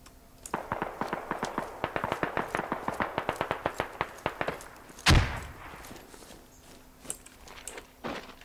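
Sustained burst of machine gun fire in the tactical shooter game Squad, rapid evenly spaced shots for about four seconds, then one loud close blast followed by quieter scattered sounds.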